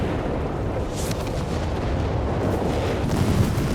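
Booming RAF rocket strikes and artillery-style fire in the Company of Heroes 3 strategy game, a dense, continuous rumble of blasts with no clear gaps, loud and steady throughout.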